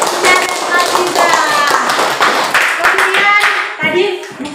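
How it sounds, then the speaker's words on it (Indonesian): A school class claps for a pupil in brisk, close-by hand clapping, with children's voices and a teacher's speech mixed in over the patter. "Luar biasa, tepuk tangan untuk Aziza dan Aziza."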